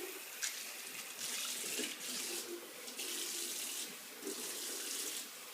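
Tap water runs and splashes steadily over a wall while a small filter using clay powder is cleaned, with brief surges and pauses in the flow, fairly close and alone.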